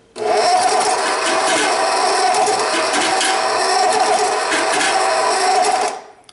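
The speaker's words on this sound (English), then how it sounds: "So here we have a KitchenAid mixer, and we're going to see that it is skipping when we turn it on" A KitchenAid stand mixer with a bad gear runs loudly and steadily for about six seconds, a dense mechanical whir and grind with slight unevenness, then cuts off at the end; no talking.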